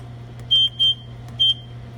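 An electric oven's end-of-bake timer alarm sounds three short, high-pitched electronic beeps, two close together then one after a pause, clear and near over a low steady hum.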